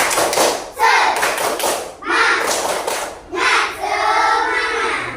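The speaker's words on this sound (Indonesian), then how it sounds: "Oke, tepuk semangat." A class of students performs a rhythmic spirit clap, tepuk semangat, in a classroom: loud, close bursts of group clapping and thumping in repeated patterned phrases, mixed with children's chanting voices.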